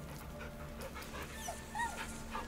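Scratch, the dog in Baldur's Gate 3, whimpers and makes soft, happy yips while being petted, with a couple of brief rising whines standing out above a steady low game ambience.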